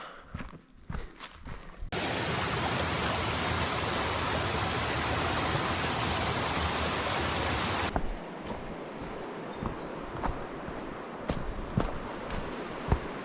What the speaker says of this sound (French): c'est pas un petit ruisseau en fait, c'est vraiment une rivière en fait